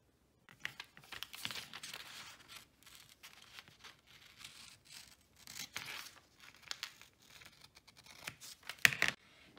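Scissors snip through squared, pre-marked paper being cut into wallpaper for a dollhouse bedroom wall, a run of close, crisp cuts and rustling paper handling with short pauses, no speech.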